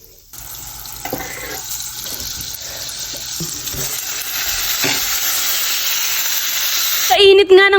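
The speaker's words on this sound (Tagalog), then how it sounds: "Sa init nga ng butter, saka na namin nilagay ang mga hotdog." Hotdogs fry in hot butter with a steady sizzle, under clattering stirring and utensil knocks, with a brief watery burst at the end.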